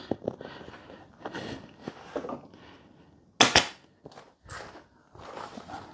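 A staple gun fires into upholstery on an antique tub chair, giving one sharp, loud snap that stands out against quieter rustling and handling noises around it.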